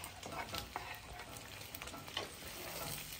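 Tomato added to onion and garlic sizzles in a pan, a steady soft frying hiss broken by scraping and stirring sounds, with no talk.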